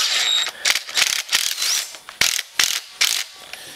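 A ratchet wrench tightening a bolt on a Honda Fourtrax 300 ATV engine during assembly, giving several short bursts of rapid clicking separated by brief pauses, close and clear with no talking.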